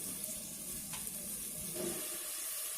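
Kasuri methi sizzles steadily in hot oil in a pan for pav bhaji, a continuous close frying hiss with faint stirring scrapes and no talk.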